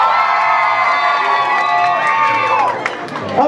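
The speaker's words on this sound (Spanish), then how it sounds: "Aplausos para Bella." At a Mexican cosplay runway event, a dense crowd cheers and shouts continuously, young voices prominent, with faint clapping underneath, steady and loud before tapering slightly at the end.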